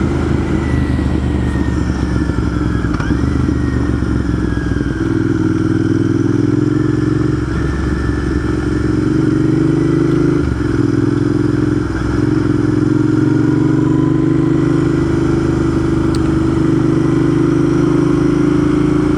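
Motorcycle riding along Route 14 through Vermont in summer, its engine a steady, loud, continuous drone with the pitch rising and dipping through gear changes and shifts in throttle, alone with no talk.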